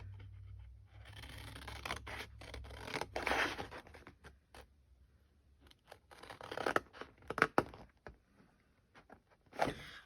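Scissors snipping paper strips up to a score line for a papercraft picnic basket, with a series of crisp close cuts and rustling paper, quiet and irregular, no talking.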